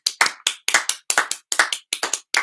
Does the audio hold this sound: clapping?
yes